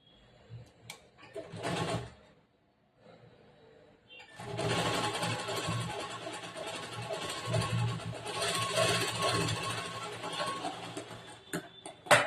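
A sewing machine stitching blouse fabric with lining: a short burst of whirring, a pause, then a longer steady run of rapid mechanical stitching that stops with a few clicks near the end.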